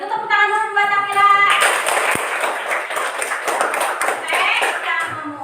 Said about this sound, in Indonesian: tepuk tangan dulu buat Akila.